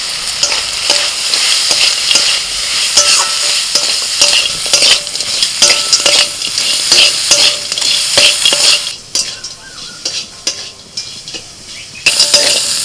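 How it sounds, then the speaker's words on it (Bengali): Crab stir-fried in a pan with salt, turmeric, cumin, red chilli and garam masala powders gives a steady loud sizzle, with a spoon scraping and clinking against the pan throughout and a brief quieter stretch near the end. "ভালো করে কষিয়ে নিয়ে এবার অল্প একটু জল দিয়ে দিচ্ছি"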